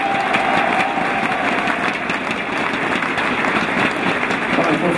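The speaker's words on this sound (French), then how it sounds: "Alors on applaudit un peu plus fort le Mexique" A crowd applauds at a men's world team squash championship match, a steady, dense wash of clapping that stays loud and even from start to finish.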